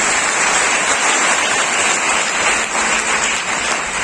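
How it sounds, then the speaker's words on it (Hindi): Applause from an audience at a youth career event: dense, even clapping like rain, loud and sustained throughout with no voices on top. "तो इनके लिए एक जोरदार तालियां होनी चाहिए।"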